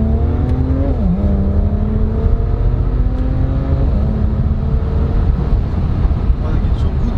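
BMW 335i accelerating, a loud, continuous engine drone heard from inside the car, with pitch rising and dropping as it revs through gear changes, while someone talks over it.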